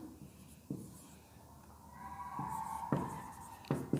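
A pen writes out an English grammar example sentence: faint, quiet scratchy strokes in short separate bursts against a soft room background.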